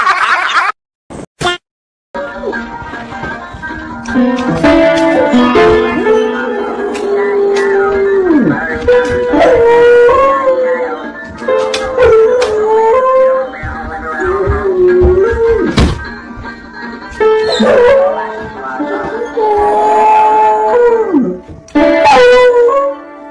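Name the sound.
dog howling while playing piano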